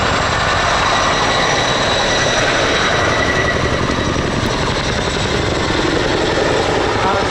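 Chinook twin-rotor helicopter repositioning during an air display at RIAT 2024, a loud, steady broadband engine and rotor roar that holds constant throughout without a break.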